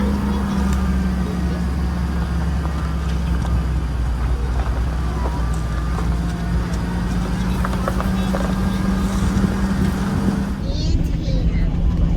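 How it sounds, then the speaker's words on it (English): An old truck engine idles with a steady low rumble and faint rattles throughout, close and loud, with no clear start-up. "we'll see if the old truck will start up today"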